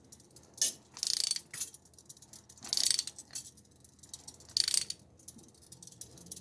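Socket wrench ratcheting a bolt during restoration of a 1966 Dodge Dart GT barn find, quiet close clicking bursts in irregular strokes with several sharper, louder ratchet runs between pauses.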